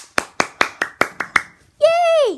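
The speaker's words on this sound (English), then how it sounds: "Claps for me." Hands clapping seven times in a quick, even rhythm, close and crisp, followed by a child's excited vocal cheer.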